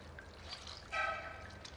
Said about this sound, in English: Add some water into a bowl and rinse the pork in water.